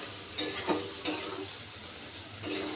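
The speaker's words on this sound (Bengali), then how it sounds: "এবার মশলার সাথে সব কিছু আমি আবারও একটু ভালো করে কষিয়ে নেব" Spices frying and being stirred in a pan with chicken masala, a soft steady sizzle broken by a few sharp scrapes of the spoon against the metal, close but fairly quiet.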